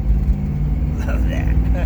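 1966 Plymouth Fury out on a cold-morning test drive after a front brake cylinder repair, its engine and road noise rumbling steadily up close while someone speaks over it.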